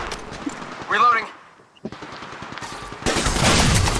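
Bursts of automatic gunfire from Apex Legends Mobile, rapid rattling rounds that grow loud and dense toward the end, mixed with in-game voice callouts.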